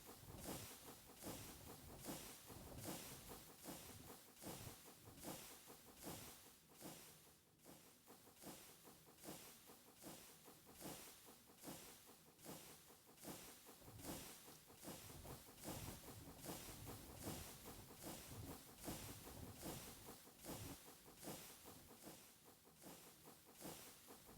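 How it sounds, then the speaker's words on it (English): Train travelling a short distance in Minecraft with the Trains'n'Tech mod, a steady hissing rumble with rhythmic clickety-clack pulses running continuously throughout, fairly even and moderately loud with no talk. "I'm also taking the train a very short distance."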